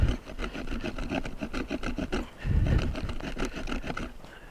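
TOPS SXB knife blade scraping and chopping notches into a piece of hardwood, a close, rapid rasping series of strokes with rough rubbing textures throughout.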